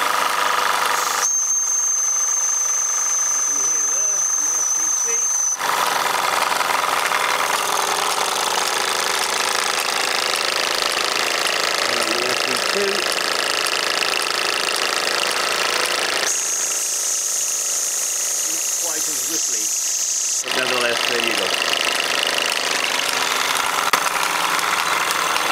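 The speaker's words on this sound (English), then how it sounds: "You can see both engines are running very well." Mamod SE2 and SE3 model steam engines with brass whistles run steadily, giving a continuous mechanical chuffing hiss with a high whistle tone at times and no voices.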